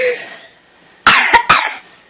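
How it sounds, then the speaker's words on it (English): A small child gives two quick, loud, close coughs in rapid succession right into a nearby camera, following a moment of quiet and some faint earlier voice. "Did you really just cough at the camera?"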